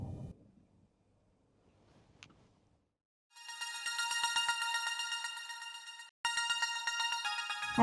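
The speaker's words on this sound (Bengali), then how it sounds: "তোমার ফোন বাজতেছে, ফোনটা ধরো।" A mobile phone ringtone plays a bright, repeating electronic melody after a quiet stretch. It stops briefly, then starts ringing again, loud and close.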